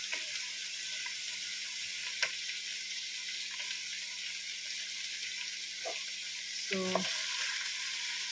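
Pork sautéing for adobo, a steady close sizzle in the pan with a few clinks and stirring scrapes, and a brief word spoken over it.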